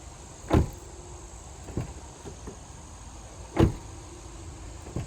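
Two sharp, solid thumps of a 2021 Toyota RAV4 Limited Hybrid's door shutting, a few seconds apart, close by over a quiet background hum with faint softer knocks between.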